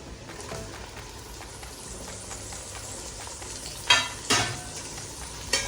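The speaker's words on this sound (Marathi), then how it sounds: "आपण टोमॅटो शिजेपर्यंत हिला परतून घेऊया." Tomatoes and onions frying together in a pan and being stirred, a soft steady sizzle broken near the end by a few sharper scraping stirs.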